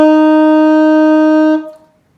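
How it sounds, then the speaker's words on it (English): A lone saxophone note, a C, held bright and steady for about one and a half seconds, then cut off with a short fading tail. "And if I was to play a C on the saxophone, it would sound like this."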